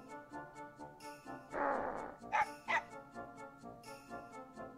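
A dog barks and yips in the Mega Man Legends video game, a few sharp close barks and whimpers in quick succession over a faint ticking game background.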